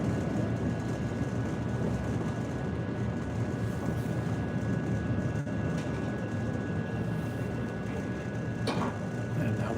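A Chicago Green Line elevated train rumbles steadily as it pulls into Roosevelt station, a dense continuous rolling roar with faint squeals and a high whine throughout.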